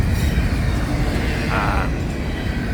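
Florida East Coast Railway trains rumble past, a loud continuous low roar with no clear breaks.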